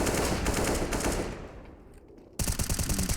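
Automatic weapon fire from a Counter-Strike match, rapid bursts of shots that fade into a lull before a sharp, loud volley resumes abruptly.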